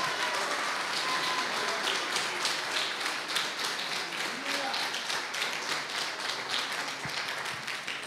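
A congregation claps in praise to the Lord during a church service, a steady, fairly faint wash of many hands clapping throughout, with faint voices mixed in.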